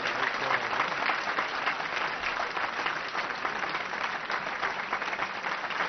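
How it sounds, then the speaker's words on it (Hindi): An audience at a bhajan sandhya held in honor of Atal Bihari Vajpayee gives sustained, loud applause, a dense and steady wash of clapping from many hands with no break. "हम जोरदार ताली बजाकर उनको अपनी संवेदनाएं"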